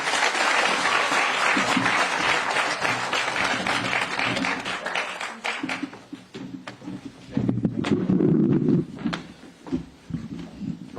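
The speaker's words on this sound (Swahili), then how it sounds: "Makofi, makofi, makofi." An audience at a Kenyan political forum for people living with disabilities claps loudly and steadily for several seconds, with a fresh burst of applause toward the end.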